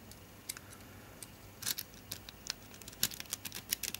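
Metal rakes worked through a lock, giving faint scattered clicks and scrapes in irregular bursts that grow busier toward the end, with no talk.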